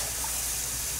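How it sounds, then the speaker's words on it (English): Mustard water being poured into a thick sauce in a home kitchen, a steady close hiss of liquid running for about a second, with no talk. "I'm going to get a little more mustard water in here"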